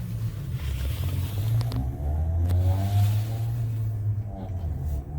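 A car circles slowly nearby on a Kensington, Philadelphia street, its engine a steady low rumble that swells and eases as it passes, heard from close range without talk.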